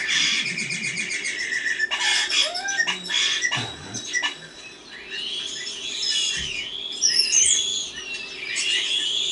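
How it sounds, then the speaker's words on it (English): A European starling sings a long varied run of whistles, chirps, rattles and odd squeaky phrases, close and clear, with rapid changes in pitch and rhythm and no talk over it. "Now, you may not be fond of European starlings, and I will understand if you're not, but you can't deny that they are talented vocalists"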